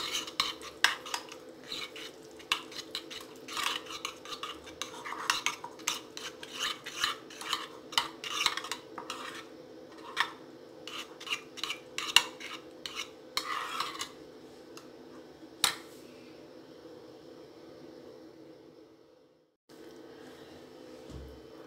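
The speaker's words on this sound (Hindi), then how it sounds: "अब इसको अच्छी तरह हम मिक्स कर लेते हैं" Parsley being mixed into a chicken sandwich filling in a bowl, with rapid, irregular scraping and clinking of a spoon against the bowl for about fifteen seconds before the stirring stops and a faint steady hum remains.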